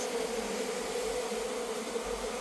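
Small honey bees buzzing around a clay pot hive, a dense steady hum close by with no pauses, fairly quiet and without voices.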